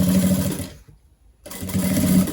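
Sewing machine stitching piping around a curved mirror panel on a crossbody bag, a close, loud rapid mechanical whir that stops briefly for a second, then resumes at full speed.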